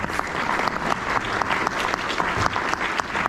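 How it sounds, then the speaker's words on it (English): A small crowd applauds steadily, many hands clapping at an even, brisk pace without pause, fairly close. "Let's give Kim a round of applause"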